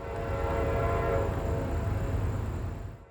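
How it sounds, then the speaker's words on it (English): Freight train Q441 arrives at Dade City at dusk, its loud horn blaring over a heavy rumble of rolling cars before the sound cuts off. "our very first train at Dade City shows up"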